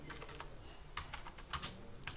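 Computer keyboard typing while writing a document in a word processor, quick clusters of light clicks in an uneven rhythm, close and fairly quiet, with no voice over them.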